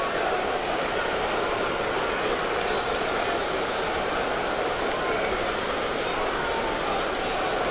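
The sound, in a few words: rain falling on baseball stadium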